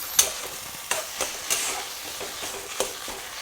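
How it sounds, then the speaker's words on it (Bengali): Mashed bottle gourd leaf paste gets mixed with raw mustard oil, soft wet scraping and stirring strokes repeating at an uneven pace, close and fairly quiet with no one talking. "জাস্ট একটু নেড়ে চেড়ে দিয়ে দেবো।"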